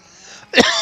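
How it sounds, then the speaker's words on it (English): A single sudden, loud cough right up against a microphone, a sharp close burst that stands out after a quiet, hushed stretch. "But I coughed into the mic."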